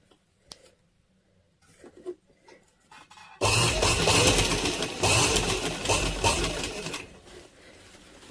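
A domestic sewing machine stitches along the neckline of a little girl's frock, starting after a few soft handling clicks and then running loud and continuous for several seconds before easing off, close by with no talk.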